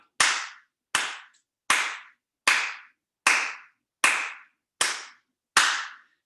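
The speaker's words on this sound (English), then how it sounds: "Now, because I clapped one way, I got to clap the other." Eight single hand claps ring out at an even, slow pace, each crisp and close with silence between, from an instructor during an online adaptive yoga session.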